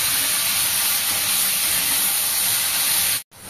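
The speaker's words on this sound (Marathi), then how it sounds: "5 ते 7 मिनिटांसाठी हे गवार आपल्याला परतून घ्यायचे आहे आणि गॅसची फ्लेम जी आहे ती मोठीच ठेवायची आहे" Cluster beans frying in oil over a high gas flame, a loud, dense, continuous hiss and sizzle that cuts off abruptly near the end.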